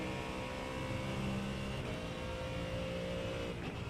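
A race car engine at Sebring in the iRacing sim drones loud and steady throughout, a dense continuous roar with sustained harmonic tones and no bogging or stutter.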